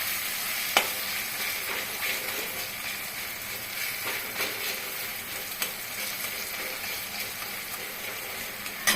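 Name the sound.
goat liver frying in a wok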